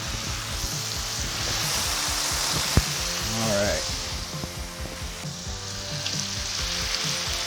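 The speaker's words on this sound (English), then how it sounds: "Ooh, look at that sizzle." Strips of bacon sizzle and crackle steadily on a hot 28-inch Blackstone Pro flat-top griddle, a dense continuous frying hiss with a few light scrapes and knocks; a voice speaks briefly over it.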